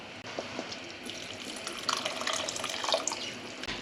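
Water runs into a pot of thickening chilli, a faint tap-like trickle and splash that swells slightly partway through, close and quiet, with no talk.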